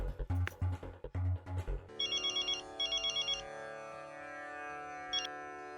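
A phone rings with a repeating electronic melody, bursts of bright tones over a low synth backing, clear and fairly close.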